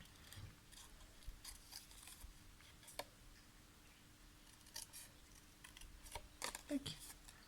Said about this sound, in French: on va couper où on a fait les traces de stylo ou de crayon papier